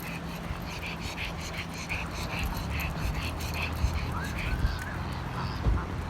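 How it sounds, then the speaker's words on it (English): A duck quacks repeatedly beside a flooded creek, with honking calls scattered over steady outdoor water and ambient noise. "There's the duck."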